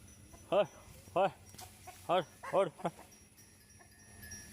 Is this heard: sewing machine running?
no